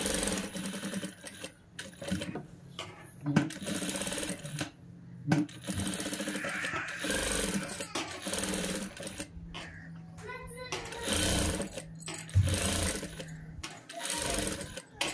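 A sewing machine stitches old saree fabric into a long frock for a small child, running in loud, rapid whirring bursts that start and stop between pauses, with a voice talking now and then.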